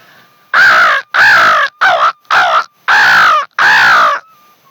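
A man mimics a crow's cawing with six loud, harsh, close caws in an uneven rhythm, some paired quickly, with brief silences between them.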